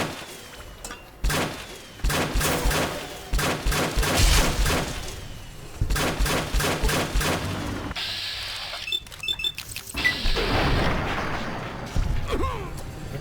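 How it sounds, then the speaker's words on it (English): Gunfire and explosive blasts in Fallout: Tale of Two Wastelands during a Boulder City fight, with a rocket launcher and enemies shooting back: repeated loud bursts and booms in clusters, with brief pauses between volleys. "Another one shooting at me."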